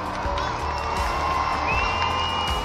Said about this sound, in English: there's a cheer in the crowd once again